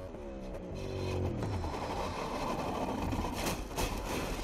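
Onboard a MotoGP racing motorcycle at the 2018 Qatar round, the engine climbs through rising harmonic revs into a corner, then holds a loud, dense roar with broadband wind and track noise throughout, no voices.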